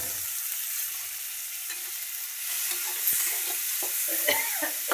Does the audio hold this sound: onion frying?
yes